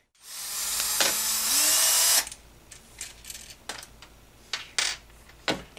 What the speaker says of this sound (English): we're going to go ahead at this point and remove the 2 brake screws on the top as well as the third one